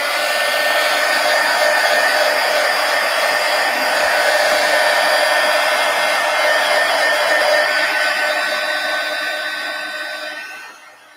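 A hair dryer blows on a freshly varnished art journal cover, a loud, steady, close whir that holds for about ten seconds before winding down at the end.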